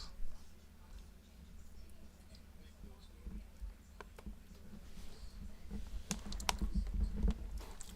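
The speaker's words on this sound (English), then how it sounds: "That's just me typing some stuff off of this sheet." A computer keyboard is typed on, copying text off a sheet of paper, in a steady run of quiet clicks that grows busier and louder toward the end, alone without talk.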